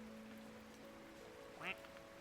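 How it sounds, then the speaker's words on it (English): A rubber duck gives one short, squeaky quack in a duck simulator video game. It is faint and brief over a steady low hum and soft patter. "That one's a quack."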